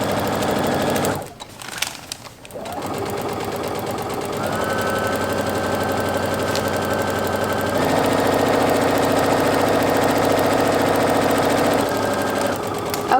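A sewing machine stitches a seam on a quilt of rolled triangle pieces, running in a steady mechanical whir that pauses briefly near the start, then continues close and loud, picking up slightly toward the end.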